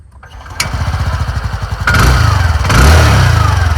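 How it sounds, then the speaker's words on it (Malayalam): A TVS Jupiter 125 scooter engine starts with little starter noise, settling into a close, steady putter that rises slightly as it revs. "ഞാൻ സ്റ്റാർട്ട് ചെയ്യുന്ന സൗണ്ട് കേൾപ്പിച്ചു തരാം"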